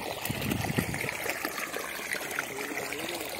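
Irrigation water flows steadily along farm rows in a mango orchard, a continuous near trickle and gurgle running throughout without speech.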